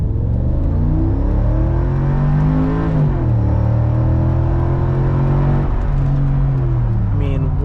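A Mercedes G63 AMG SUV engine runs at high revs while parked, a loud sustained drone with its pitch dipping briefly and climbing again, steady throughout with no pauses.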